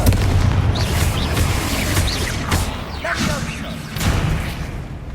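Spell explosions from the Confringo fire spell in the Hogwarts Legacy video game, a run of booming bursts and whooshes over a dense rumbling game soundtrack, with spoken voices mixed in.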